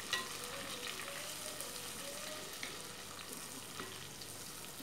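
Shallots, garlic and green chilli fry in oil in a clay pot with a soft, even sizzle and light crackle, faint and unbroken, with no talking.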